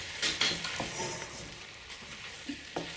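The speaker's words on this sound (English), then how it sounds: "And stir that in." Turmeric and chili powder being stirred into a spinach and chard curry in a pan, with a soft sizzle and a few scraping strokes of a spoon, close and moderately quiet, with no talk.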